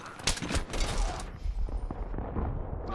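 Rapid gunfire in the multiplayer shooter Battlefield 3 as a player shoots at a mine. A burst of close shots opens loudly, then lighter scattered shots and game noise trail off.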